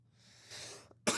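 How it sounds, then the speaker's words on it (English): A single person's lingering cough, starting as a soft breathy rasp and ending in one sharp, close burst, with no talking. "came home with this lingering cough because, like I said, very, very hot"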